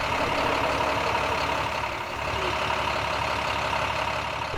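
A truck engine runs steadily nearby, a constant low rumbling drone without change in pace, loud and unbroken.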